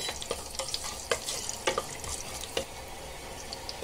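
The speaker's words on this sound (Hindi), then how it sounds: "अभी हम बघार दे रहे मच्छी को।" Curry leaves, mustard seeds, cumin and fenugreek crackle and spit in hot oil as a tempering for fish curry, with quick, scattered pops over a soft, low sizzle.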